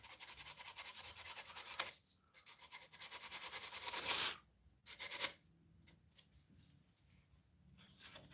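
Sanding a Wookiee teeth prop, with rapid rhythmic scratchy rasping strokes in bursts, close and fairly quiet, broken by short pauses.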